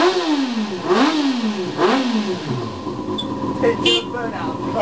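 A Kawasaki ZX6R motorcycle revs hard indoors during a burnout, with repeated rising and falling engine sweeps up close, followed by sharper high-pitched squeal and tyre noise while people shout in the background.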